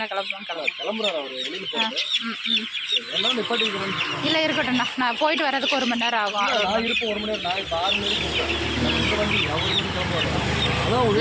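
Chickens at a poultry seller's stall in Perundurai, including silkie, fancy and black chickens, cluck and squawk repeatedly, loud and close, while someone talks over the birds.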